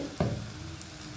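Bajji fritters frying in hot oil, a brief bubbling sizzle with a louder burst as batter drops in, then a steady soft crackle close by.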